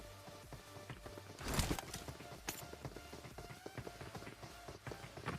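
Enemy footsteps in a shooter video game: quiet, quick rhythmic steps running through the whole stretch, with a louder, harsher burst near the start.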